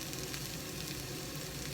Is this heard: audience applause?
no